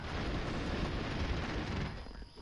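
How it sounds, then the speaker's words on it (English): Explosions in a PS4 video game form a thick, sustained roaring rumble that holds steady, then thins and fades out near the end. "Explosions."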